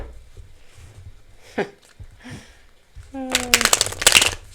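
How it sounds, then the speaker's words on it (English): Tarot cards are shuffled close by in a quick, crisp riffling burst near the end. Faint murmurs and brief vocal sounds come before it. "Again with the shuffling."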